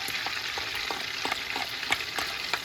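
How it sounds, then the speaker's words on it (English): Grated onion sautés in melted butter over medium-high heat, giving a steady, soft sizzle with occasional crackles and stirring clicks. "I'm gonna saute for about a minute or two"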